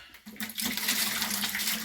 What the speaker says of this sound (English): just take a little bit of water and just clean it like this.